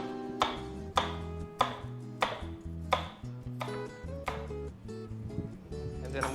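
A knife cuts a Fuji apple into slivers on a board, with about ten crisp, evenly spaced chops that ring slightly, close and clear with no talk over them.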